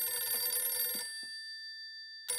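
A telephone bell rings in a lively scene of the TV comedy Taarak Mehta Ka Ooltah Chashmah, its tone sustained for about a second over background chatter and music, then breaking off into near silence before sounding again at the end.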